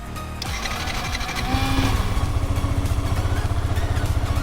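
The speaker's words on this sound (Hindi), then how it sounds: "ये देखिए अब अपन बाइक को स्टार्ट करके देखते हैं" A motorcycle engine with an engine trouble light showing an ECU problem cranks and fires, then settles into a steady, close idle with a fast, even pulsing throb.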